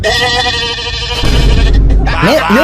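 A goat bleats close by in a Haitian setting, with wavering cries at the start and again near the end, mixed with a person talking.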